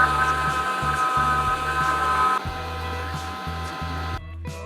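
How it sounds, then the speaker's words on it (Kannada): Electric mixer grinder whirring as it grinds ingredients for a drink, a loud steady motor drone with a rhythmic thumping pulse that drops slightly midway, then cuts off near the end. "ಈಗ ಗ್ರೈಂಡ್ಗೆ ಹಾಕಿ ಇದನ್ನು ಗ್ರೈಂಡ್ ನೋಡೋಣ"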